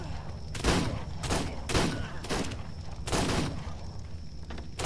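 Gunfire in a Wild West shootout in Ark on PS4 during a community event: several separate bursts of shots at uneven intervals, fairly loud over a steady game background.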